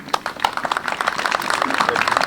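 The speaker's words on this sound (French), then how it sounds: "Je crois qu'on peut l'applaudir." Applause breaks out at an outdoor Armistice Day remembrance ceremony at the Bousies trench, a crowd clapping steadily and close by, with voices murmuring underneath.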